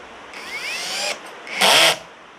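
A Panalong brushless cordless drill drives a 1-inch screw in two close bursts: a whining spin that rises in pitch, then a short, louder grinding run that ends as the clutch stops it, with no talking over it.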